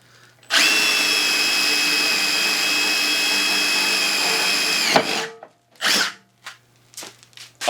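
A power drill bit, billed as among the worst ever made, bores into a steel brake rotor with a loud, steady whine lasting several seconds, then stops abruptly, followed by a few short bursts of the drill.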